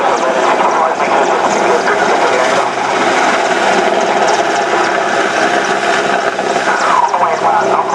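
A military helicopter passing close at the RNAS Yeovilton International Air Day 2005, a loud continuous rotor and engine roar filling the whole stretch, with crowd voices faintly underneath.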